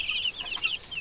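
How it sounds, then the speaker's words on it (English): A small group of chicks peeps softly and continuously in a grassy pen, high thin chirps overlapping at close range with no voices. "that is the sound of contented peeping."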